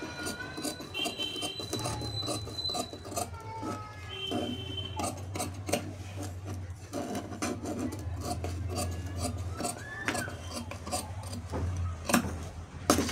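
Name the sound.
cutting blouse lining fabric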